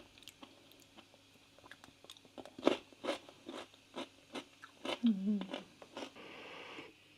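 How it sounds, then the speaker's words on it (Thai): Crunchy bites and chewing of a spicy dish with enoki mushrooms and cucumber, a run of short crisp crunches close up in an otherwise quiet room. "มีความกรุบกรุบของ เห็ด เห็ดเข็มทองแล้วก็แตงกวาที่เราใส่ไป"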